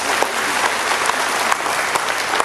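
Dense, steady applause from a crowd at the groundbreaking ceremony for the elevated section of the Taoyuan Metro Green Line, loud and continuous throughout with scattered sharper claps.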